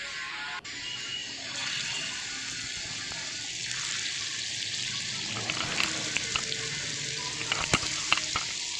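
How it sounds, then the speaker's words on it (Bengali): Chicken koftas are fried in hot oil, a steady broadband sizzle and crackle that grows busier as balls are dropped in one by one, with occasional sharp pops and spatters near the end. "তেল গরম হয়ে গেছে, একটা একটা করে কোপ্তা ছেড়ে দিচ্ছি তেলে"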